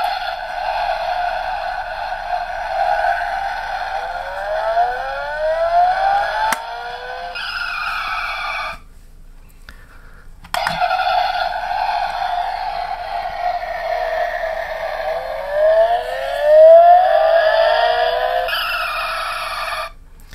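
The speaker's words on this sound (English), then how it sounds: "Now, is that the sound of the Batmobile?" A 1/18 scale Chinese toy Batmobile, pressed down to trigger its electronic sound effect, gives out rising and falling siren-like racing tones with squealing sweeps, in two loud bursts split by a brief pause.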